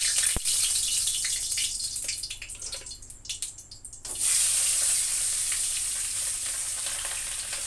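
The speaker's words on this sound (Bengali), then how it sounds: "এবার মাছগুলো ভাজা দেব। চলো, তেল গরম দিয়ে দিয়েছি," Fish pieces rubbed with salt and turmeric frying in hot oil, a loud, continuous hiss and crackle close to the microphone that dips briefly before surging back at full strength.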